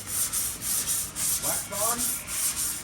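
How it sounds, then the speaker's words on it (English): Hand sanding of fiberglass-reinforced Bondo filler on a 1967 Firebird 400 body, a steady rhythmic scratching in long even back-and-forth strokes, close and loud, with no talking. "Proper sanding technique. The gentle sand. The long sand."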